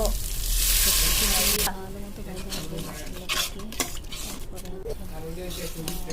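Spices with turmeric, chili and salt stir-fried in a pan for a chickpea curry: a loud hissing sizzle bursts at first, then settles into steady frying with scraping stirs and clatter while a voice talks.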